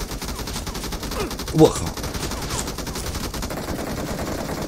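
Gunfire from a battle royale video game, Peacekeeper Elite, in the final circle, short bursts of shots with a player shouting loudly over them.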